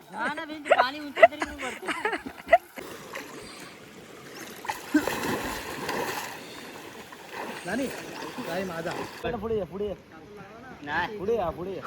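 Friends splash and dunk one another in a river in the Konkan, water sloshing and splattering close by under frequent shouting and talk.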